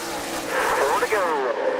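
NASCAR stock cars roar around Bristol Motor Speedway during the 2015 Irwin Tools Night Race, a steady loud engine drone with a rising and falling pass, mixed with crowd and commentary-like voice.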